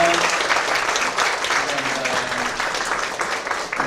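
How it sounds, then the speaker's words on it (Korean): A church congregation claps warmly during a dedication service at a mission theological seminary, dense steady applause throughout with a few voices murmuring underneath. "우리 귀한 동역자들 향해서 뜨거운 박수 하겠습니다"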